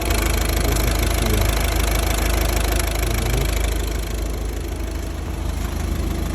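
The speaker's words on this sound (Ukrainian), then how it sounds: "Мотор ну, ну, працює гарно." A Volvo V50 engine idling nearby, a steady low rumbling hum that runs unbroken and eases slightly softer toward the end.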